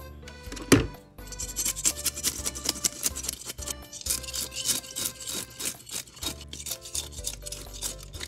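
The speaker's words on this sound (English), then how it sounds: "we're gonna scale them." Crappie fish being scaled by hand, a fast series of close, rhythmic scraping strokes against the scales that continue steadily throughout, with no talking.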